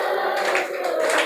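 A church congregation claps in rhythm while singing, quick repeated hand claps layered over sustained sung voices, close and fairly loud for a short burst.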